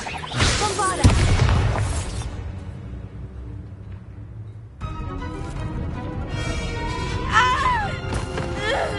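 Loud booming blast with shattering debris from the Bombarda spell in the Hogwarts Legacy video game during a combat fight, followed by rumbling aftermath and further crackling bursts.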